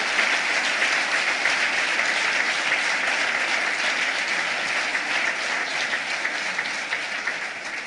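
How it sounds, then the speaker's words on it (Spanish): A large audience at a PSOE party congress applauds steadily, a dense, loud wash of clapping that holds evenly for the full stretch with no voices over it. "pido un aplauso para todos aquellos que lideraron ese congreso"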